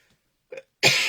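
A single harsh cough bursts out near the end, loud and close, after a brief softer throat sound.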